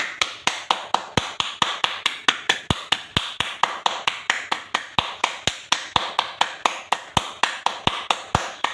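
One person claps hands in a fast, steady, unbroken rhythm for a continuous clapping challenge aiming at 3000 claps in 8 minutes. Sharp, evenly spaced claps sound close, with no talking.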